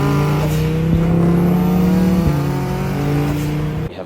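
A turbocharged FRS car engine revs loudly and close, its steady droning pitch shifting between gear-like steps before cutting off near the end.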